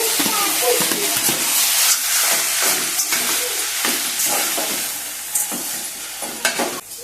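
Grated coconut and boiled vermicelli frying in a pan for a sweet semiya dish, a loud continuous sizzle with hiss and repeated scraping stirs throughout, close up and without speech.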